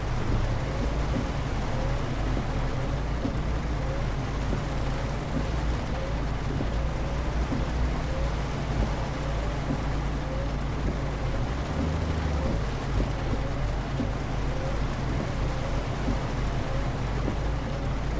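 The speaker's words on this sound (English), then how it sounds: "driving in rain is actually quite stressful" Steady rain drums on a truck while driving in Euro Truck Simulator 2, over a constant low engine rumble, with a faint thunder roll partway through; no talk.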